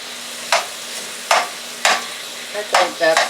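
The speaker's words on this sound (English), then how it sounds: "The rice is cold, so I'm trying to break it up." Cold cooked rice is stirred and broken up in a frying pan, giving five or six distinct scraping strokes at an uneven pace, close and clear over a faint background sizzle.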